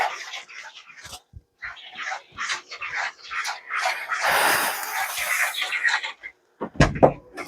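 A dog whimpers, yips and scratches at a door in a quiet room, a run of short bursts and scrapes with a louder rustling stretch midway and a sharp bump near the end.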